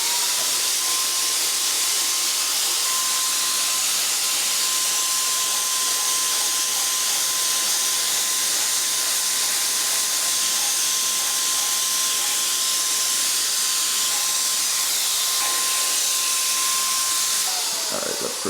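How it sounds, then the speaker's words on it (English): Paint sprayer coating a bedroom wall during a remodel: a loud, steady hiss with a constant high whine that holds for many seconds before cutting off near the end. "Wonder if I can spray that without making a mess."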